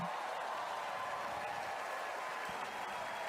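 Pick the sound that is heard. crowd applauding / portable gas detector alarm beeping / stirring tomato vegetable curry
crowd applauding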